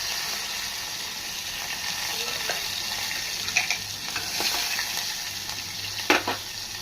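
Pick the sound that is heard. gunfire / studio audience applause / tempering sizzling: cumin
tempering sizzling: cumin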